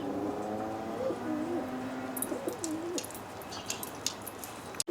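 Pigeons in a loft: soft, repeated cooing calls in wavering phrases, close but quiet, followed by faint fluttering and scuffling.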